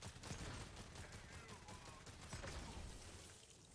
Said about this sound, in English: Like a shotgun bang.